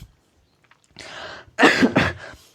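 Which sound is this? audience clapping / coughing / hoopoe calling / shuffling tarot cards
coughing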